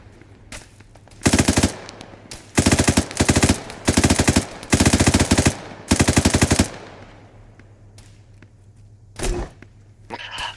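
Machine gun fire in a video game, loud close bursts of rapid automatic shots in several long strings, separated by short pauses, then a final brief burst near the end over a low steady hum.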